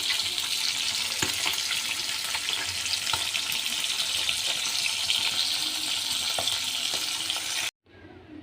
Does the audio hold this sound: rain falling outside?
no